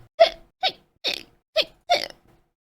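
Five loud, abrupt hiccups come from one person at close range, spaced at a fairly even rhythm about half a second apart, with nothing else between them.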